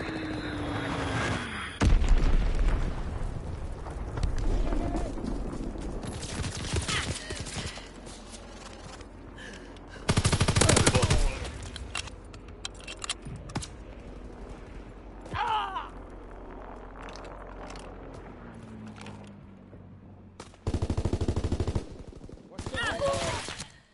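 Bomb explosions and gunfire in a shooter game, with a few loud booming blasts spaced several seconds apart over scattered shots and background battle noise, with some voices in between.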